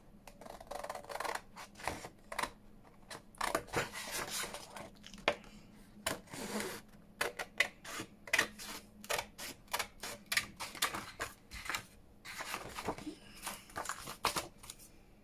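Scissors snip steadily through card for a journal folio pocket, making close, crisp cuts in quick irregular runs with brief pauses, and no talking.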